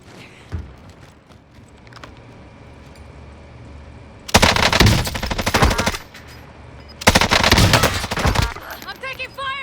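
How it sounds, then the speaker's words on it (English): Call of Duty Warzone gunfire arrives in two loud, dense automatic bursts, each about two seconds long, breaking a quieter stretch of game ambience; a voice speaks briefly. "I'm taking fire!"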